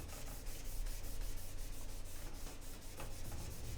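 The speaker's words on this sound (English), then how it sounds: "the reason I'm scrubbing it in like that is because I want to have a variety of light and dark" A brush scrubs oil paint onto a panel in quick, rhythmic rubbing strokes, a soft continuous scratchy texture heard up close with no talk.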